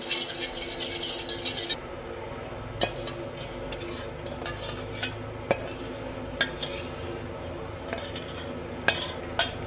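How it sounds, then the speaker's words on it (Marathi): A spoon stirs a kharvas mixture of milk and cardamom powder in a vessel, making repeated metallic clinks and scrapes at an irregular pace over a soft steady background, with no talking. "व्यवस्थित ढवळून मिक्स करून इलायची पूड वगैरे टाकून"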